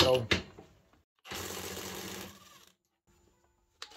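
A Parkside Performance PASSP 20 cordless impact wrench loosens bolts tightened to 130 Nm. It gives about a second of loud, rapid hammering after a short knock and then stops, leaving near silence.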